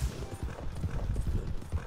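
Horse hooves clip-clop at a quick, steady gallop in Red Dead Redemption 2, a close, continuous run of low thuds that carries through the whole stretch.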